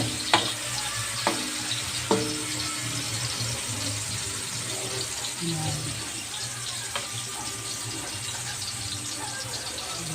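Tomatoes sautéing in a pan while being mashed, a continuous soft sizzle with occasional utensil taps and scrapes, and a voice speaking briefly in the background.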